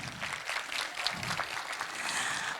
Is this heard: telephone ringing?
no